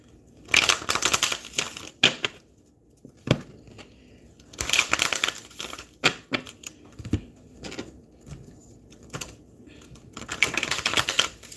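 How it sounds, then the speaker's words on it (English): Tarot cards being shuffled by hand in repeated bursts of crisp riffling and slapping, close and fairly loud, with short pauses between rounds and no talking. "As I'm shuffling"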